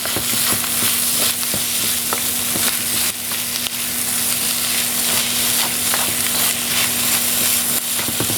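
A chunk of butter sizzles hard in a hot pan where sea urchin is being cooked. The dense, loud crackle runs unbroken with frequent small pops and a low steady hum behind it, and no one speaks.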